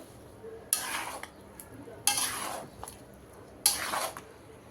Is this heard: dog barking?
no